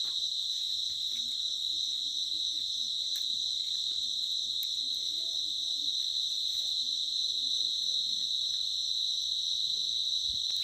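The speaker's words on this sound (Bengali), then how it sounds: "চারদিকে ঝিঝি পোকার যে ডাকটা ডাকছে" Crickets chirping steadily at night outdoors, a dense continuous high trill with faint low murmurs beneath and no clear talk.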